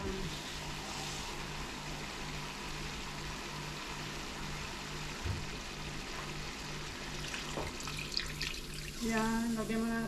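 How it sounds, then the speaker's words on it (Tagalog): Water poured into a pot of beef caldereta to tenderize the meat, a steady running splash with a low background hum and faint talk near the end. "lalagyan na natin ng tubig guys para lumambot na siya"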